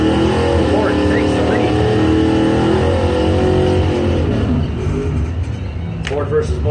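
Ford and Mopar doorslammer drag race cars roar loud and steady at a drag strip, engines droning throughout under a track announcer's continuous commentary.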